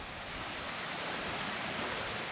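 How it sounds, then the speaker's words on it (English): A small waterfall spills down a Scottish hillside near Loch Avon, giving a steady, even rush of water that stays constant throughout with no voices. "Beautiful little waterfall the whole way down though."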